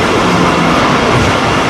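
A Pakistan Railways train running, heard from inside the guard cabin: a loud, dense roar of wheels and rails with rattling, continuous and close for the whole short stretch.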